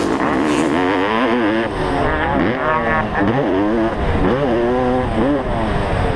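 Dirt bikes, KTM 250s and an old Honda CR500, race up a hillside track, engines revving hard and rising and falling continuously as they climb, loud and close throughout.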